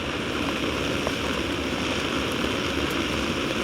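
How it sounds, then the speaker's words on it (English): Heavy outdoor rain pouring onto a circuit board during SMD soldering with an old torch, a dense, loud, continuous hiss with no pauses and no speech. "You can see the rain hitting the circuit board."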